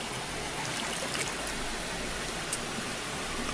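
Mountain spring water trickling steadily, a continuous hiss of running water heard close up, fairly soft, with no voices over it.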